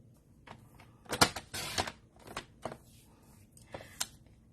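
A piece of cardstock is cut to size for a handmade card, giving a series of short, sharp crisp slicing and shuffling sounds with uneven pauses, close and fairly quiet, without speech.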